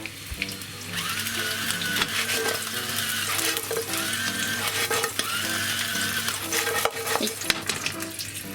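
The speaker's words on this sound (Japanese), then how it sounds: "では2つ目のじゃがいももいい感じに揚がったので" Potatoes frying in oil in a pan give off a steady, busy sizzle, with occasional scraping and stirring noises over the constant crackle.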